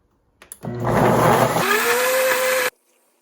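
A blender whirs loudly for about two seconds, blending bananas, club biscuits, dark chocolate and coconut milk into a smoothie. Its motor pitch rises as it speeds up, then it cuts off abruptly.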